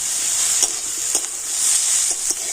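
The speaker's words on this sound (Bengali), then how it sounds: "ক্যাপসিকামটাও আমি একটু পেঁয়াজের সাথে ভেজে নেব।" Chopped capsicum and onion fry in oil in a pan with a steady, close hiss, broken by a few soft scraping stirs, with no talking.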